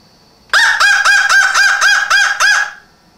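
A man imitates a crow's call with his voice, giving about seven loud, harsh caws in a quick, steady rhythm. The calls are close to the microphone, with no other talk around them.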